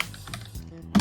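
Computer keyboard keys tapped on a PC while entering a Python import command, a few quick soft clicks ending in a louder closing keystroke, close and alone.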